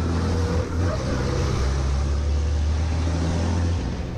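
Racing trucks roar around the Hungaroring circuit in an FIA European Truck Racing round, a loud, sustained deep engine drone with a shifting pitch and a commentator talking over it.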